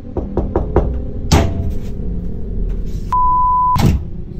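A quick series of sharp knocks on a door at bedtime is followed by a heavier thud. A steady electronic beep then sounds, ending in another loud bang over a low background rumble.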